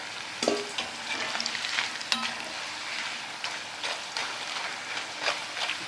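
Banana slices for chips deep fry in hot oil, giving a steady crackling sizzle with scattered pops and bubbling bursts, close and continuous with no speech.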